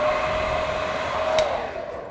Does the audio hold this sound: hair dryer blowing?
yes